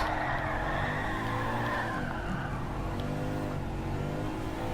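Subaru WRX in Gran Turismo 7 oversteering under braking, tires squealing and skidding over a steady engine drone, continuous and fairly loud throughout.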